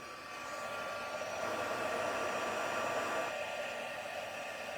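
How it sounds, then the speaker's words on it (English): A heat gun melts embossing powder on a card, blowing with a steady, close airy whoosh and a faint hum. It holds for several seconds with slight swells and no voices. "Then I'm just going to use my heat gun."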